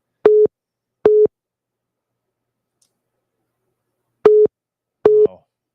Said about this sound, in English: Somebody's calling the shop phone.